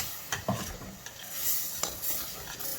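Whisk scraping in a pan as milk is stirred into flour for an endive gratin sauce over a lowered gas flame, with soft irregular scrapes and light metal taps over a faint sizzle, close and quiet.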